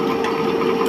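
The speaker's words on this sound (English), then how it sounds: "we have to check the motor should run in the 1500 rpm" A separately excited DC shunt motor runs near 1500 rpm on a lab test rig, a loud, steady whine with a constant hum and no talking.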